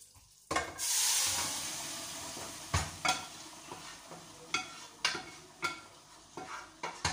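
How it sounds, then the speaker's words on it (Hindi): Lentils for a pumpkin and chana dal going into a cooking pot, a sudden pour followed by a burst of sizzling that fades, then a run of rhythmic stirring clinks and scrapes. "डाल के अब हम इसके अंदर डाल देते हैं अपनी दाल"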